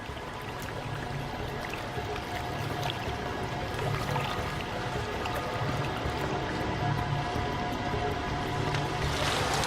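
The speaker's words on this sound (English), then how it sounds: "water begins to pour out onto the floor" Water pouring and splashing into a water torture escape chamber, a steady broad wash of sloshing and overflow that stays loud and continuous throughout, with no voices.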